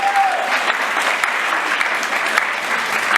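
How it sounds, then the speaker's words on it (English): An audience at a Virginia Tech debate event applauds the debaters with loud, steady clapping that fills the room from start to finish. "give our debaters one big round of applause"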